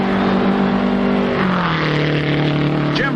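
An Indycar race car engine accelerates down the front stretch at near record speed, a loud, sustained engine roar with a falling pitch sweep midway, steady and close throughout.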